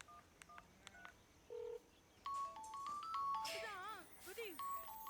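Electronic telephone tones ring out in short beeping bursts, then a busier run of stepped and warbling tones, loud and close over a faint background, with no one talking.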